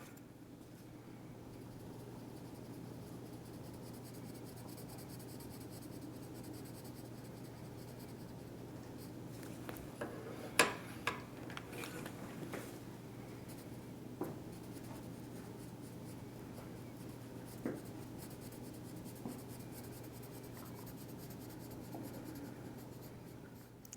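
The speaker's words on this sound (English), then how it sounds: "really tune into how the pencil crayon against the page sounds" Pencil crayon colouring on a paper page in small spaces: a soft, steady scratchy rasp of strokes, faint and close, with occasional small ticks and no talking.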